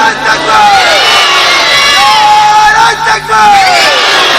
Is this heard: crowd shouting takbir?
yes